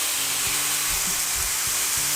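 Chopped green onion hitting hot oil in a pan for shrimp fried rice, a loud steady sizzle and hiss with a few soft stirring knocks.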